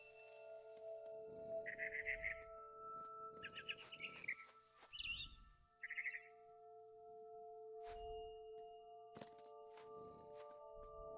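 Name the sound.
barn swallow chirping in the video game What Remains of Edith Finch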